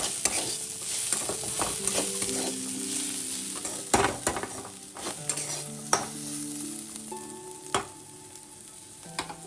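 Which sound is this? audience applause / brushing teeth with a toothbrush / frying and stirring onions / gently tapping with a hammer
frying and stirring onions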